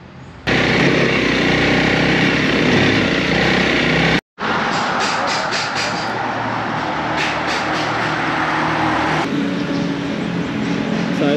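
A Honda CRF 300 enduro motorcycle engine runs loud and close, buzzing steadily before cutting out abruptly for a moment and starting up again at a similar high pitch, with no one speaking.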